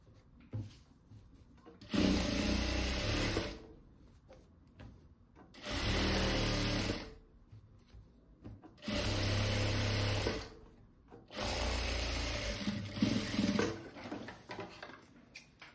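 A sewing machine stitching the hem along the bottom of a cloth dish towel runs in four distinct whirring bursts of a few seconds each, separated by quieter pauses, close and steady with no speech.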